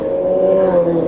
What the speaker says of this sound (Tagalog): grabe yung mga motor na yan